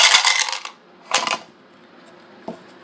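Dice in a Super Mario Collector's Edition Yahtzee game rattle out of a dice cup onto a hard surface, with a loud clattering burst, a second shorter rattle, then a small final click, close by.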